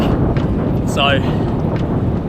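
Steady wind rumble buffets the microphone of a cyclist riding into a stiff winter headwind, a constant low roar beneath a voice talking throughout.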